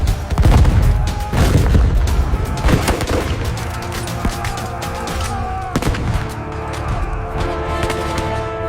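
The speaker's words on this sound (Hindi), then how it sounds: "ये लोग पीछे नहीं हट रहे, इसीलिए अपनी गन चला दो" Heavy gunfire with deep cannon booms from a dramatized Anglo-Nepalese War battle, dense overlapping blasts rumbling loudly throughout, slightly easing toward the end.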